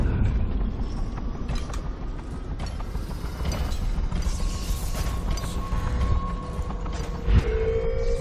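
A door mechanism in Dishonored grinds open with creaking, ratcheting metal gears and pulleys, a continuous mechanical clatter with a few sharp clanks and a rising creak near the end.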